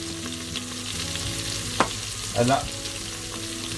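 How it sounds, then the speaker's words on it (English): Chopped onions sizzle and fry steadily in a pan for a lamb pilau, a close continuous crackle with a brief clatter or stir partway through and a single word spoken. "those onions are just cooking away quite nicely."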